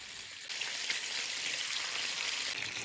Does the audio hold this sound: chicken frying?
yes